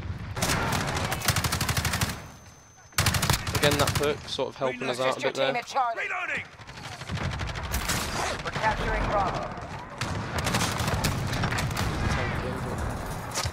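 Rapid automatic rifle fire from M4A1 and AUG in Call of Duty Modern Warfare, loud close bursts broken by short pauses, with someone talking over the shooting.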